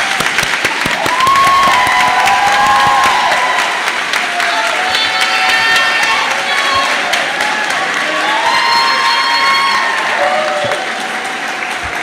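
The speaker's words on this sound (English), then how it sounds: "Big round of applause to them." Loud sustained applause from a crowd at a nursing bachelor's graduation ceremony, dense continuous clapping with scattered cheers and whoops throughout.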